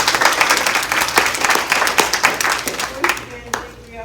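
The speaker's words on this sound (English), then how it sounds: "let's give them a round of applause." A seminar audience breaks into a round of applause, with dense clapping that thins out into scattered claps over a few seconds while a voice carries on over it.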